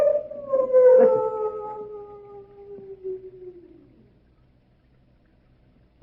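Large dogs kept at the Chateau d'Azay let out one long, loud howl that slides down in pitch and trails off, leaving near silence afterward.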